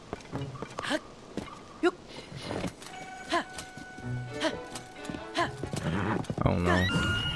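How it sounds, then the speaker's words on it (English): A horse in the Zelda Tears of the Kingdom video game whinnies and neighs repeatedly over clopping hooves, joined by game effects and a voice talking throughout. "That freaking sound from the horse."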